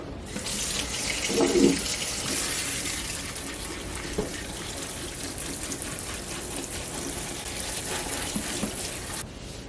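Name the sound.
draining and refilling a bowl with water to rinse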